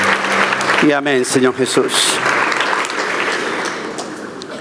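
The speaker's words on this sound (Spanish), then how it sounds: "Por eso te damos un buen aplauso, Jesús, con todo nuestro corazón" A church congregation applauds at a worship service; a voice speaks briefly at the start, then steady, dense clapping continues alone at an even level to the end.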